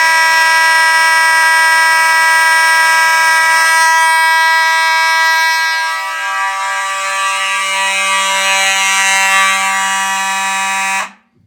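A mechanical fire alarm horn on a home alarm system blares continuously at close range, a loud, harsh, steady buzzing tone that holds unbroken for about eleven seconds before cutting off abruptly.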